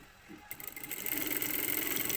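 A sewing machine stitches a buttonhole with a rapid, steady mechanical whir that starts up and runs continuously, fairly close and moderate in volume.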